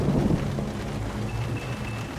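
Steady rain and low rumbling weather ambience in the video game Tomb Raider: The Angel of Darkness, a continuous wash of downpour with a faint thin tone drifting above it, no voices.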